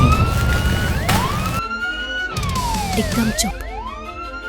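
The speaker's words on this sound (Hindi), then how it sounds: "मुझे किसी बोट के सायरन की आवाज सुनाई दे रही है।" A siren in a flooded tunnel wails in rising and falling sweeps, loud and close, while someone speaks a short word over it; the sound is abruptly cut and restarted partway through.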